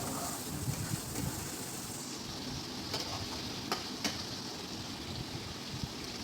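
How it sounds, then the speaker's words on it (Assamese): Boiled potato pieces sizzle and fry in spice paste in a pan while being stirred, a soft continuous crackle with a few sharper utensil scrapes and knocks against the pan. "এতিয়া আমি বইল কৰি থোৱা আলু টুকুৰাকেইটা দি দিছোঁ। আলু টুকুৰাকেইটা আমি এনেদৰে লৰাই লৰাই"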